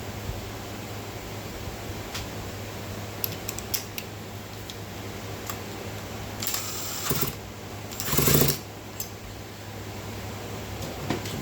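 Fasteners being tightened during engine reassembly: faint ratcheting and metallic clicks over a steady hum, with a couple of louder rustling bursts of tool handling partway through and no talking.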